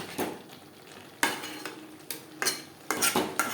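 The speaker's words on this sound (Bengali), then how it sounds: "লাউর সাথে মাছ বেশ ভালো করে মিক্সড করে দেবো" Rui fish and bottle gourd are stirred together in a pan, with sharp bursts of a spoon scraping and clanking against the metal over a soft sizzle.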